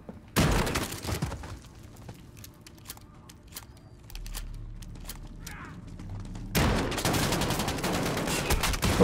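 Rapid gunfire bursts from a Call of Duty: Modern Warfare firefight, loud volleys at the start and again near the end, with sparser scattered shots and clicks between them.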